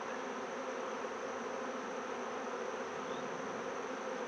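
Honeybees hum in an open hive, a dense, continuous buzz heard close up and steady throughout, with no voices.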